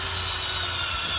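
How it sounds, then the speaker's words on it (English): A Vevor auger drill bit spins in garden soil, giving a brief, steady high-pitched motor whine under a constant droning hum. "Go full force in the drill."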